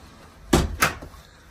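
A hotel room door on the ninth floor of Lansdowne Resort in Leesburg, Virginia, opens and shuts with two close, solid knocks about a third of a second apart, followed by a quiet room.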